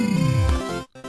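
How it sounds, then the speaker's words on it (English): Podcast sound effect of alien traps being disabled in a forest, a loud synthetic tone sweeping steeply downward in pitch, then a brief cut-off and a short buzzing tail. "That's the sound of Billy systematically disabling all the alien traps he planted throughout the forest."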